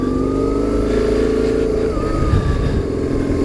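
A BMW R850R motorcycle engine idling and running steadily, a loud, close, even drone with a faint rising whine, no talking.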